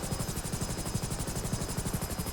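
Steady rapid thump of a coast guard rescue helicopter's rotor in GTA 5, hovering for a winch rescue; a continuous fast beat with a high turbine whine, moderately loud and without voices.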